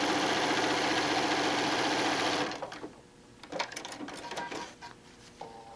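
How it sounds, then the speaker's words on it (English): A sewing machine stitches quilt fabric at a fast, even, loud whir for a couple of seconds, then stops, followed by quieter fabric handling and clicks. "Now I'm just going to sew down."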